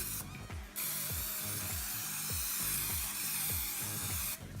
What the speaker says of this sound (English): we've got our Pam no stick pure olive oil. We'll spray it down.